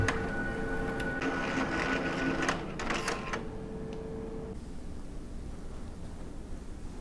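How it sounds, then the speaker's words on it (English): A card printer whirs and rattles as it draws an adhesive cleaning card through its full length for a few seconds, then the motor noise drops to a quieter hum. "The printer will now pull the adhesive card in and run it through the length of the printer"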